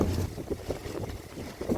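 Wind blowing dust outdoors makes a constant low rumbling gust noise that buffets the microphone, fairly faint and with no voices.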